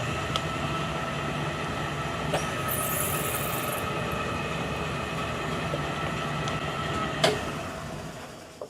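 A metal lathe turns an aluminum wheel as the carriage is fed in, producing a steady continuous mechanical drone with a faint high whine and a couple of sharp clicks, loud and close.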